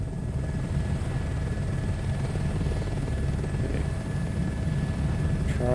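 A rescue helicopter hovers in Microsoft Flight Simulator, its rotor and engine making a steady, loud, continuous drone with no talking.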